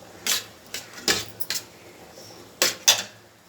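A fork clinks and scrapes against a plate while picking bones from boiled fish, in a few short separate taps with quiet gaps between them.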